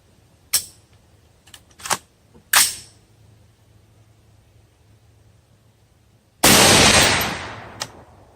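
Rifle firing rounds at a casual shooting session, with three sharp, separated reports followed after a pause by a louder, longer blast that rings out and fades, heard close with no talking.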